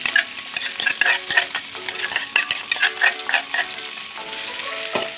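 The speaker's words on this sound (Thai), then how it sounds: "ผัดดอกหอมใส่เบคอนนะครับใส่น้ำมันสักหน่อยนึง ตามด้วยพริกกระเทียมนะครับ" Bacon stir-fried in a wok with garlic chives, chili and garlic, a steady close sizzle of frying in oil broken by repeated scraping strokes of a spatula stirring the pan, with no talking.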